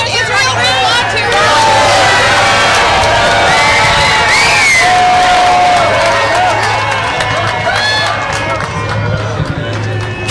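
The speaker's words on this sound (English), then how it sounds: "a very loud crowd here with a lot of people across, right next door, cheering him on" A large, very loud crowd outside a Harlem bodega cheers Donald Trump, with continuous shouting, whoops and a roar of voices, some children among them, filling the whole stretch.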